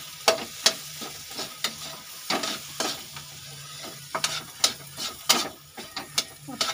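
Spices with garam masala are stir-fried in a pan, the spatula scraping and clacking in a quick irregular rhythm over a low sizzle, close by with no talk.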